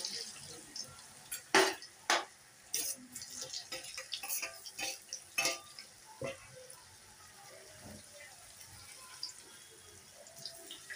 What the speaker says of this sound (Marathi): आता आपण हे तळून घेऊया.